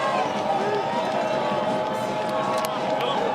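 Stadium crowd at a Calvin versus Oberlin college football game, a steady dense roar of fans urging on the Calvin defense, continuous and broad with no breaks.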